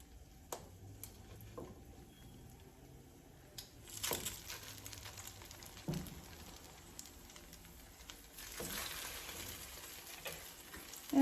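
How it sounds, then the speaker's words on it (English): Slices of French toast frying in hot clarified butter, a soft, steady sizzle with occasional louder crackling bursts as pieces are set down in the pan, close up and quiet. "So we'll hear that sizzle."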